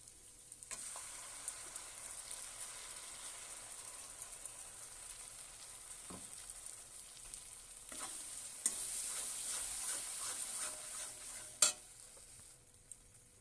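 Ground spice paste frying in a pan for paneer butter masala, a soft, continuous sizzle with scattered stirring scrapes and clinks, turning louder and brighter partway through.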